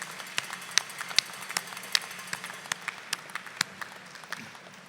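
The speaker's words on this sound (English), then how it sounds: "please join me in a round of applause for Navy Band Great Lakes and Naval Mobile Construction Battalion 133 Color Guard" Sparse, scattered hand claps from an audience at a Navy ship christening for USS Pierre (LCS 38), individual claps popping irregularly over a low, steady background murmur, fairly distant and light.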